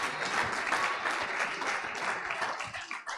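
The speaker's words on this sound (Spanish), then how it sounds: "Dale un aplauso fuerte a papá." A Sunday congregation at a twentieth-anniversary service gives a strong round of applause, a thick continuous patter of many hands, steady and fairly close throughout.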